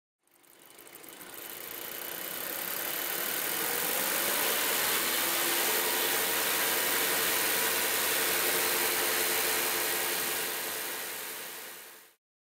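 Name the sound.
car engine idling, running lean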